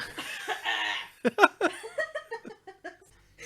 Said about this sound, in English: It said cough, so I had to do a proper cough there.